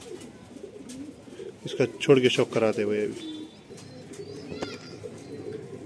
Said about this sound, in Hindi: ये डायरेक्ट इम्पोर्टेड कबूतर है।